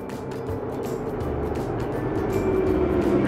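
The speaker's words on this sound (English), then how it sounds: "Sounds like the recycling truck is just down the street." A recycling truck rolls down a residential street, its engine a low rumbling drone growing gradually louder as it approaches, with faint mechanical whine over the top.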